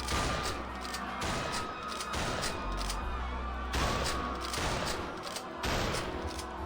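Rapid bursts of video game gunfire crack out in repeated volleys, loud and close, with brief gaps between clusters of shots and a rumbling low tail after each burst.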